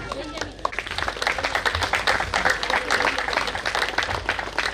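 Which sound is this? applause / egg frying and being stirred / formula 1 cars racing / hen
applause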